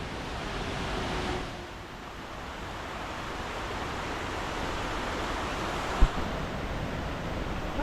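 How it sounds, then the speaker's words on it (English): A swollen river after rainfall rushes through the Aberglaslyn pass in Snowdonia, giving a steady, broad roar of moving water with a brief sharp knock near the end. "After yesterday's rainfall, the river's definitely running."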